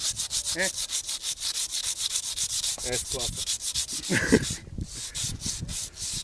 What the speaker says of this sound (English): we're gonna sand it down nicely